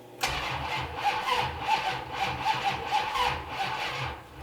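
A turbocharged police car is cranked on a weak battery, the starter churning slowly in a loud, uneven, rhythmic pulse for about four seconds without the engine firing.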